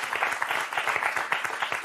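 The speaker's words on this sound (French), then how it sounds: "Vous pouvez vous applaudir" Studio audience applauds in a steady, dense wash of clapping for about two seconds at a French television talk show, filling the room without voices on top.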